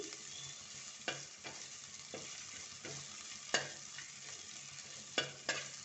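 Onions frying in a pan for a spicy coastal sardine pulimunchi, a steady close sizzle broken by several sharp scrapes and clacks of a spoon stirring at irregular intervals, with no voices.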